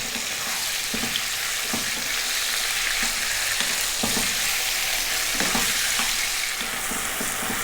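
Restaurant-style lamb curry frying over medium heat and stirred often in a pan, a continuous close sizzle with regular soft scraping strokes of the spoon spaced about a second apart.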